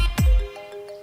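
A phone ringtone sounds for an incoming call from Ajay's father: a bright, sustained electronic tone held steadily after a short low thump at the start, fairly close and clear.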